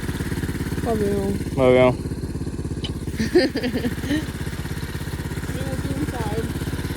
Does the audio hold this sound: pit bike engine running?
yes